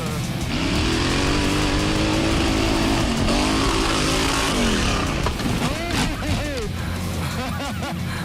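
A small engine roars steadily under an excited voice, with rumbling and clattering as the vehicle drives, and the pitch rising and falling.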